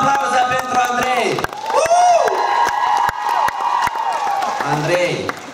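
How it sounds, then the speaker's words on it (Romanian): A school audience cheers and shouts with scattered clapping, loud and close, while excited voices rise and fall above the crowd. "Aplauze pentru Andrei!"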